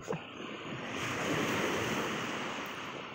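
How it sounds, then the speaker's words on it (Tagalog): Sea waves wash onto a beach in Manticao, Misamis Oriental, Philippines, with a broad, steady roar that swells and fades, mixed with wind rushing across the microphone; no one speaks. "Muni among dagat."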